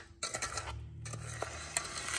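A spoon stirs a thick peanut butter bar mixture in a bowl, making close, soft scraping and rubbing strokes with a few light clinks, and nobody speaks.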